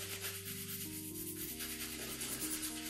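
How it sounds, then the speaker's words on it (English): Horsehair brush buffing excess polish off an Edward Green leather shoe in fast, brisk strokes, a steady close rubbing swish that continues throughout with a faint hum beneath and no talking. "I'm going to now use my horsehair brush to just brush the excess polish that the shoe hasn't absorbed"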